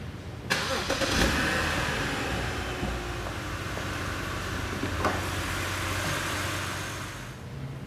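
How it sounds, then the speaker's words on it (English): A 2007 BMW 530i with a 3-liter inline-6 engine, which starts and then runs with a steady mid-pitched hum and slight revving, close and fairly loud, with no talking. "Under the hood of the BMW 530i, you're going to find BMW's 3-liter inline-6 engine."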